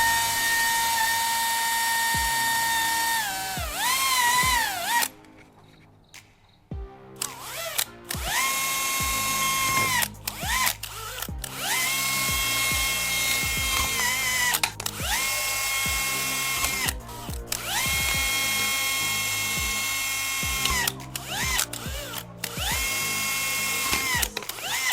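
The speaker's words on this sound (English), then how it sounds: "Around the neck of the bottle, I'll drill several small holes." A small power drill bores several little holes around the neck of a plastic bottle, whining bursts that rise and fall in pitch, separated by brief stops between holes.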